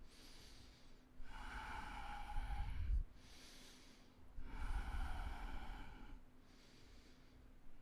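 Slow, deep breathing during a live yoga-style fitness class: two full cycles of long, airy inhales and exhales, close and audible, each breath lasting a couple of seconds with a brief pause between.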